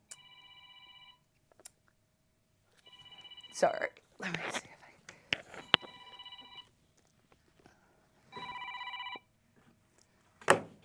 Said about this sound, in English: It's just going to have to ring in the background there.